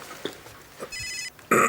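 A mobile phone rings in a short burst of electronic tones, then a louder burst follows, mixed with a few faint knocks and a throat sound at close range, with no clear speech.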